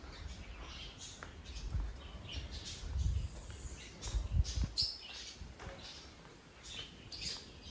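Small parrots, some bright yellow, call at an outdoor bird park in Barbados, giving scattered short chirps and squawks over a steady low background rumble.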